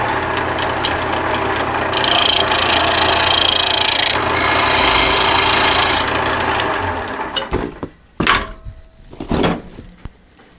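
A lathe spins a wooden tool handle while a tenon is cut on it, making a steady, loud scraping rasp that runs for several seconds, then stops, leaving a few scattered knocks.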